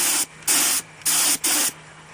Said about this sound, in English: I'm just gonna still spray it in there,